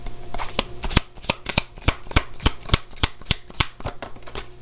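A deck of cards being shuffled and drawn for a tarot-style reading, with a steady run of sharp riffling snaps about four or five per second, close and crisp, with no talk over it.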